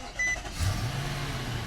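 A 2016 Infiniti QX80 Limited with a 5.6 L V8 starts and settles into a low, steady idle, heard faintly from inside the cabin without any talking.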